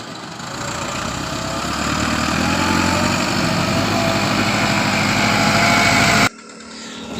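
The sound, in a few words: bus passing by on a village road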